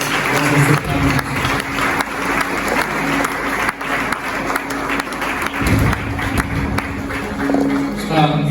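A church congregation claps loudly for Jesus after a sermon, a continuous mass of close applause with voices mixed in and scattered louder thumps, lasting throughout.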